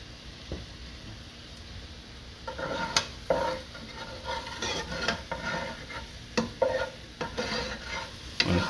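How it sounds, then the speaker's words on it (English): Food seasoned with salt, pepper, onion powder and garlic powder sautés in a pan. A soft, steady sizzle runs throughout, broken by louder bursts of stirring and scraping as the pieces are moved around. "see how it's sauteing? It's sauteing pretty good"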